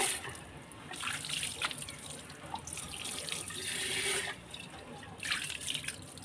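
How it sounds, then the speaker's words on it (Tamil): Water from a tap runs and splashes steadily while a fish tank is washed, with brief surges and trickles over about six seconds, close and fairly quiet. "மீன் தொட்டி கழுவிட்டேன்."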